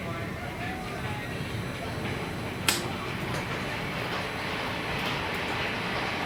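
A small amusement park ride train at Liseberg rumbles and rattles along continuously with a brief metallic clack, while people talk nearby.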